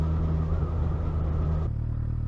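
A 2020 Suzuki GSX-S1000 motorcycle engine revs from a standstill, a loud close buzzing roar that holds for about a second and a half and then drops back to a lower idle.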